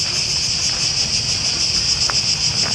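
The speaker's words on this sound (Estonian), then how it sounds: "Ehk siis tsikaadid," Cicadas in Athens, Greece, buzz in a dense, continuous shrill drone, loud and unbroken throughout, with a faint low rumble beneath and no talking.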